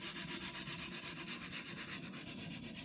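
The back of a plane blade rubs over a coarse diamond sharpening stone, giving a soft, even, rhythmic scraping with regular back-and-forth strokes, close and fairly quiet.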